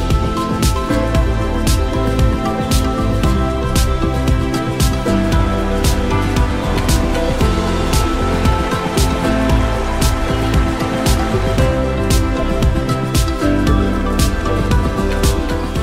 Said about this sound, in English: it's kind of a hot spring that ends up in a waterfall